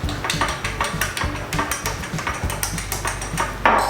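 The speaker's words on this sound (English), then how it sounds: "I'm gonna give that one a little stir." A spoon stirring a rum drink in a glass at a bar, a quick run of bright clinking taps against the glass over about four seconds, close and clear, with no talk.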